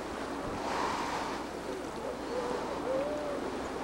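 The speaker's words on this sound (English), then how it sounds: "look at that water breaking on the wall right at town" Sea waves breaking against a town's sea wall, a steady rushing surf roar with gusty wind buffeting the microphone and swelling crashes partway through.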